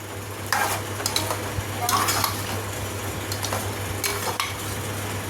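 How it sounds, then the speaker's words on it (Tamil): Steady scraping and stirring of mutton, cauliflower and green pea curry in a pot over low flame, occasional clinks of a utensil against metal, over a constant low hum and faint sizzling. "நல்லா இந்த அளவுக்கு நல்லா கிளறி விட்டுக்கணும்"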